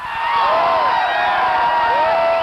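A large football crowd roars and cheers at a 1986 CFL West Semi-Final between Calgary and Edmonton, a loud, sustained wall of voices with whoops and rising shouts over the whole stretch.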